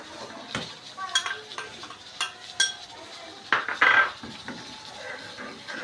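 A metal spoon clinks against a cooking pot while ground garam masala goes into frying chilli and turmeric for beef trotter paya, with scattered scrapes, taps and a soft sizzle, close and moderately loud.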